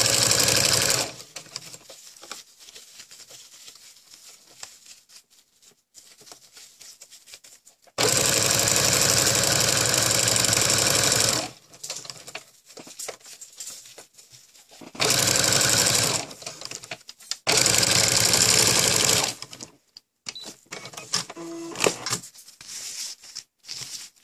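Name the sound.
sewing machine stitching ruffle for cloth diaper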